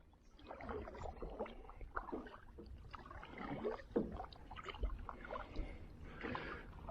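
A kayak paddle dips into a calm lake, giving soft, irregular splashes and trickles close by at low volume, with no talking.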